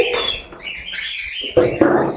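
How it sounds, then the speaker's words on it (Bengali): Lovebirds for sale in an aviary, including red-headed breeding pairs, chirp and tweet in a busy overlapping chorus close by, with sharper calls near the end. "যারা রানিং লাভবাট পাখি নিতে চাচ্ছেন"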